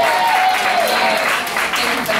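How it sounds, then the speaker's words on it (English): An audience at a youth conference breaks into applause, a dense, loud wash of clapping that holds steady throughout. "if we can applaud them on tonight."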